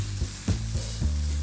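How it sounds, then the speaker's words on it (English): Potato gnocchi sizzling loudly in a pan of oily tomato sauce, a steady close fry with a few stirring bumps and no talking. "I want to put them in the sauce so I can sauté with the sauce at least once."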